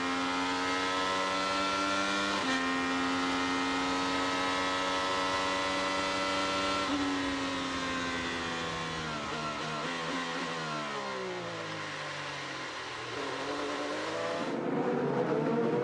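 Onboard an IndyCar race car at the Honda Indy Toronto street circuit, the engine screams at high pitch, holding steady, dropping through downshifts and braking, then rising again as it accelerates, loud and close throughout.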